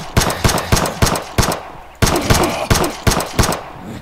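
Double pistol fire in the video game Animallica: loud, close gunshots in two rapid rhythmic bursts of about five shots each, split by a brief pause, with no talk.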